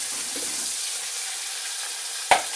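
Garlic frying in a pan with a little turmeric, a steady soft sizzle and hiss running throughout, ending with one brief sharp clink near the close.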